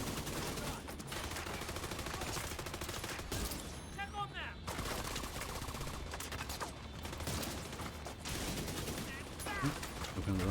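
Sustained gunfire in The Division, dense bursts of shots and automatic fire rattling almost without pause, fairly loud and continuous, with brief voices now and then.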